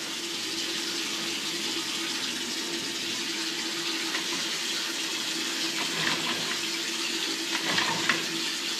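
Water runs steadily into a main household drain being cleared, a continuous hissing flow at an even level with faint trickling and splashing toward the end.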